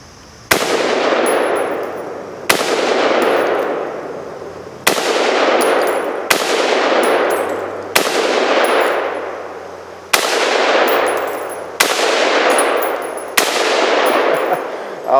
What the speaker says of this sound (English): I'm going to take a couple shots on that target right there